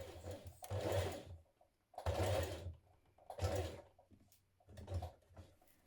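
A sewing machine stitches two blouse collar pieces together, running in four loud bursts of rapid mechanical whirring and thumping with brief pauses between, close up and without talk.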